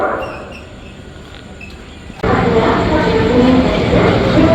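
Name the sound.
Sealdah Duronto Express train arriving, hauled by a WAG5 locomotive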